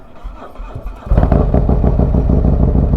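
A Harley-Davidson motorcycle engine after a cold start, heard close and loud: a brief quieter stretch, then a sudden rise into a heavy, lumpy, pulsing idle rumble.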